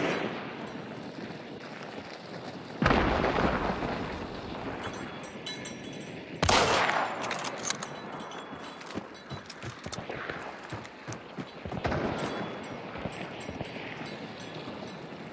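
Gunfire in the game Hunt: Showdown, with two loud, sharp blasts that ring out and decay, followed by smaller scattered shots and rattles, all at moderate distance.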